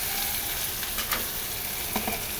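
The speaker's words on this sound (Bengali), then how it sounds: "এবার এই তো গরম তেলে চেপা শুটকি দিয়ে দিলাম, দিয়ে দিব রসুন কুচি" Chepa shutki, a fermented dried fish, sizzles steadily in hot oil with chopped garlic, a continuous close frying hiss with a few louder crackles and spatters and no voices.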